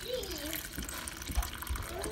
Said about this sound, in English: So we're going to put our water in here that is going to be frozen to our binding.